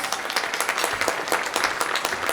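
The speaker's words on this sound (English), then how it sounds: "So that deserves a big round of applause." Audience applauds for a chamber of commerce membership record at a morning business gathering, a dense, steady burst of clapping throughout with no talk over it.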